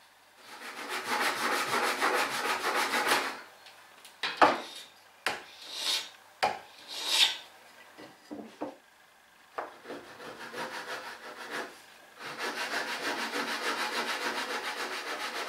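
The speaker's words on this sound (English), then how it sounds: "I'm cutting these grooves in exactly the same way as I did the ones for the base." Hand sawing of wooden grooves for a sliding lid: long stretches of steady rasping strokes at the start and end, separated by a run of short, sharp scraping and knocking sounds, close and fairly quiet.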